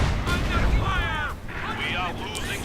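Mortar shells land on German Grenadier infantry in the Company of Heroes 2 strategy game, giving rumbling explosive booms and debris noise in quick succession, close and loud.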